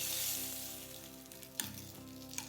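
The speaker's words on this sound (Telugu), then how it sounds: "ఇందాక కొబ్బరి పాలల్లో కలుపుకున్న అటుకుల మిశ్రమానికి తాలింపు వేసి కలుపుతున్నాను." A hot tempering sizzles as it is stirred into a poha and coconut milk mixture, making a close frying hiss that gradually settles, broken by a couple of sharp scraping clinks from the stirring.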